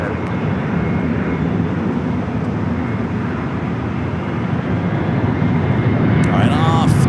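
A Delta heavy jet takes off from runway 24 left at LAX, bound for Honolulu, a loud steady roar of engines filling the air, sustained and building slightly toward the end.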